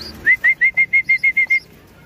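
A run of nine short, evenly spaced pigeon calls, clear and fairly close, repeating at a steady quick rhythm before falling quiet.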